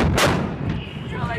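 A single powerful gunshot blast from a weapon fired during an Air Assault Course range exercise, booming close and loud with a rumbling low tail.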